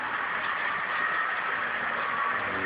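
Bachmann HO scale model train locomotive running steadily up a grade pulling about eight cars, a continuous even motor hum and rumble close by with no pauses.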